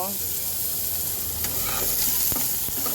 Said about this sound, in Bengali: মাছ ভাজা তেলের মধ্যে আমি সেদ্ধ করা আলুটাকে একটু ভেজে নেব